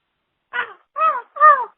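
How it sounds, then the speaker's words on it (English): A crow caws three times in quick succession, harsh clear calls, the last one loudest, standing alone against silence. "It's so difficult to emulate that crow call."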